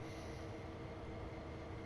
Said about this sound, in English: We have a train coming up.